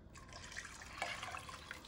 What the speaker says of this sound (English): 4 more cups of water.